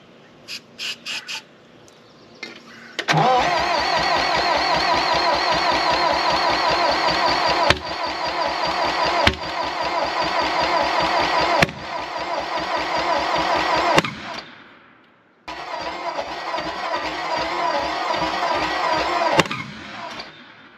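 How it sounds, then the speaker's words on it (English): A 1960 John Deere 1010 backhoe engine cranks with a few short bursts, then catches and runs loud and rough with a rapid chugging beat, sharp backfire cracks popping out several times and a brief stall before it fires up again. "So it's backfiring, so that means something's out."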